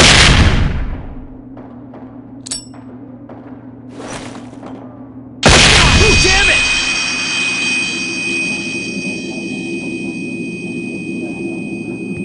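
Two flashbang grenade detonations in the tactical shooter game SWAT 4, each a sudden loud blast; the second is followed by a long high-pitched ringing tone over a steady low engine-like hum.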